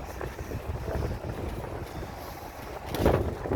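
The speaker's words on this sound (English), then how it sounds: "Oh, windy." Wind gusts roar steadily across the microphone on a balcony on a chilly morning, a low rumbling buffet that swells briefly near the end.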